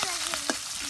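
Small puti fish fry in hot oil, a bright crackling sizzle with a few short sputtering bursts and a faint tonal hum beneath, close and continuous over a brief moment.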